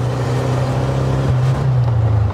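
Old VW Beetle with a 1300 cc air-cooled engine, restarted after five years abandoned, droning steadily while driving, a loud low throbbing hum close up that rises slightly in pitch partway through.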